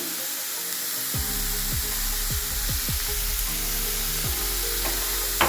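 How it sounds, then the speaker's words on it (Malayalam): Sliced beans and carrots tip into a hot pan. After a second of quiet, a loud, steady, close sizzle starts and keeps hissing to the end. "അതിലേക്ക് നമ്മളിതാ മുറിച്ച് വെച്ചിരിക്കുന്ന ബീൻസും ക്യാരറ്റും ഇട്ട് കൊടുക്കും"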